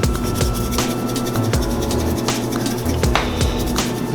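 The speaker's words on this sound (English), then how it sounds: "Give them a nice mix. Rub them together." Hands rub salt and pepper into crappie and bluegill fillets, making a close, steady scraping and rasping with brief louder swipes and no talk.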